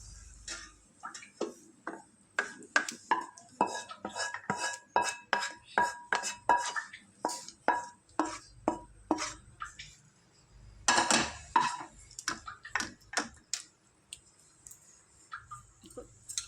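Plates and utensils clatter repeatedly in a busy run of sharp clinks and taps, close by, in a home kitchen while a boiled tomato is moved onto a plate, pausing briefly before another flurry of rattling.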